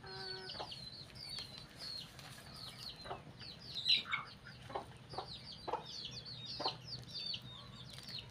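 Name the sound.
chicken clucking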